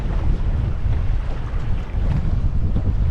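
Strong wind roars across a boat at sea near a beach with whitecaps, a continuous heavy buffeting rush of gusts and wave wash filling the whole stretch without any voices.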